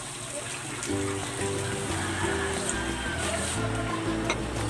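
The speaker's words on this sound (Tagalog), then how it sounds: "Maglagay tayo ng tubig." Water poured into a pan holding pork belly liempo and its marinade for pork asado, a steady trickling gush running the whole time at close range.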